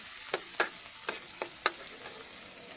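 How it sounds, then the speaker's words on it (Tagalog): Chili peppers fry in a pan while being stirred until brown for a Filipino bagoong dish: a steady hiss of sizzling oil broken by a handful of sharp, separate crackles and pops. "Sunod natin yung sili. Ayan. Haluin muna natin sila hanggang sa maging brown."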